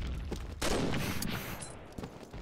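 Gunfire in a first-person shooter match: a few sharp shots over a dense bed of game noise and rumble, with no voice over it.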